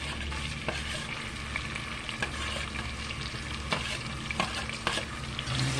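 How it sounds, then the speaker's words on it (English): Onions are stirred into browned beef in a Dutch oven and sizzle steadily, with a constant frying hiss and scattered scraping ticks from the spoon, and no voices. "we're going to add our onion to this Dutch oven pot"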